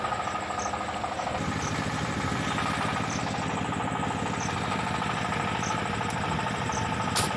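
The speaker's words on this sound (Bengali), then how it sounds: "নৌকা, এটা শ্যালো নৌকা" A shallow-draft engine-powered river boat runs steadily on the river, its motor droning loud and close in an unbroken, even hum with no voices.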